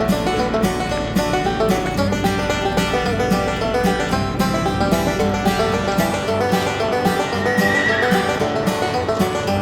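Horses at a farm paddock whinny and neigh repeatedly, loud and close, with hoof clip-clop and shuffling mixed into a busy, continuous animal soundscape.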